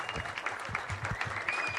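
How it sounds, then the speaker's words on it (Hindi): Audience applause at a recognition ceremony in Rourkela, a steady wash of clapping from a crowded hall lasting a couple of seconds, with faint voices mixed in. "आप सबकी जोरदार तालियों के बीच।"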